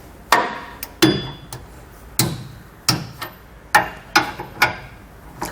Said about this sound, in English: With all of our hardware completely tightened down, we're ready to come back and torque it down.